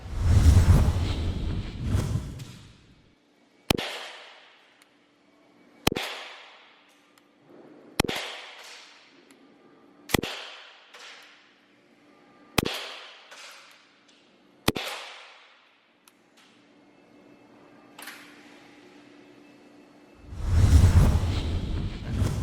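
An ICS BLE XAE gas blowback airsoft pistol fires over a chronograph in six sharp, evenly spaced shots with short ringing tails, bracketed by louder handling noise at the start and end, no talk.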